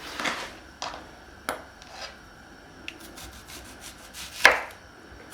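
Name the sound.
knife cutting onions into rounds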